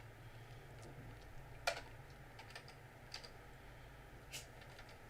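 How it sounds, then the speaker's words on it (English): A cat walking on and pressing computer keyboard keys, giving sparse, irregular soft clicks and a few sharper taps over a quiet room hum. "Oh, Matuko, you're pressing keys."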